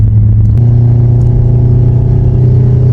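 A Toyota Altezza fitted with individual throttle bodies runs loud and close, its engine holding a strong, steady note with slight rises in pitch and no talk over it.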